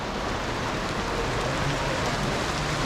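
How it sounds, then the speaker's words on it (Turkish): Steady rain falls throughout, a dense, even hiss of drops with no voices or other sounds. "Birden böyle yağmur yağmaya başladı"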